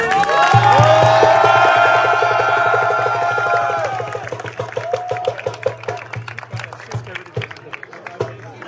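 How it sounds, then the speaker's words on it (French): A crowd at a 1,2,3 Prout championship in Parthenay cheers and shouts loudly with a strong droning tone underneath, then breaks into scattered clapping and voices as the noise tapers off. "Est-ce que vous pouvez vous applaudir, s'il vous plaît?"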